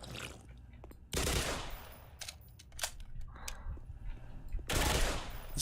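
Video game gunfire hits objects, sounding as several sharp bursts of shots and impacts with short gaps between them, spaced unevenly and heard up close without talk.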